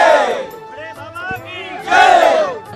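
Large crowd gathered at the Jain pilgrimage site of Kundalpur in Damoh, Madhya Pradesh, with loud overlapping shouts and chanting voices that surge at the start and again near the end.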